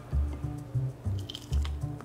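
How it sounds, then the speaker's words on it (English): Thick frozen piña colada is poured into glasses, giving low gloopy squelches and plops in short irregular bursts, close up with faint background noise and no speech. "Let's pour this into the glasses."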